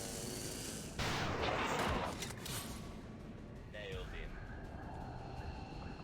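A gunshot in XCOM 2, one loud blast at the start with a ringing tail fading into background game ambience.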